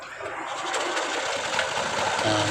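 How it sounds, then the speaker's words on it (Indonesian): A petrol generator engine, just fitted with a new spark plug, starts and runs steadily with a busy, rattling mechanical drone that holds at an even level throughout. "Nah, mesin hidup normal"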